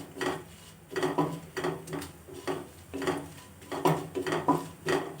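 Dry red chillies and spices roasting in a pan for spinach thokku are stirred with a utensil, producing rhythmic scraping and clinking strokes roughly every half second, close and fairly quiet with no speech.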